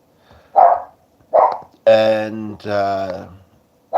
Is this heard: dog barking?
yes